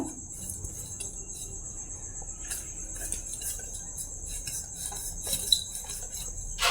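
A cake bowl is greased with refined oil, with soft scattered clinks and rubbing scrapes against the bowl under a faint steady high-pitched background tone.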